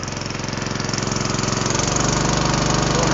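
Small engine powering a 300-gallon tool box style sprayer runs steadily and close, its pulsing drone building slightly louder as the throttle is raised, with no talk over it.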